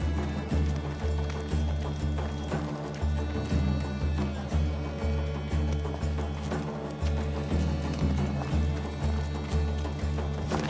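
Horses galloping in the video game Assassin's Creed Odyssey, a loud, regular clip-clop of hooves pounding in steady rhythm, with an occasional whinny and a faint voice in the background.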